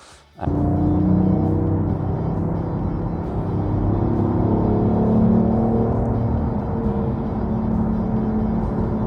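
A BMW i8 hybrid sports car engine roars loudly at steady high revs in third gear after starting abruptly, a constant close droning hum that holds for several seconds.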